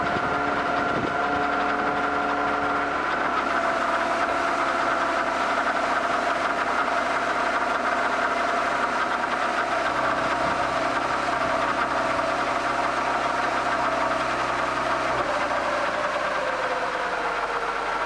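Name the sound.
BMW E36 car engine idling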